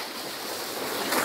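High sea waves surging against a rocky reef in strong wind, a steady broadband roar of surf and gusts close by, swelling slightly louder toward the end, with no voices.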